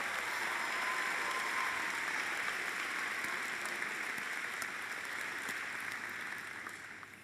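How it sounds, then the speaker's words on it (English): Sustained applause from a commencement audience honoring graduating undergraduate students, a dense wash of many hands clapping that holds steady throughout and tapers slightly at the end, with no talk. "Let's have a final round of applause for all of these amazing students"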